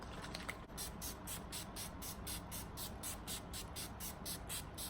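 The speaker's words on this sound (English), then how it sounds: "This is the NYX Dewy Finish long lasting setting spray." NYX Dewy Finish long-lasting setting spray misted onto a face as a rapid series of short, even pumps. Each pump is a soft hiss, heard close and quiet over a steady background hiss.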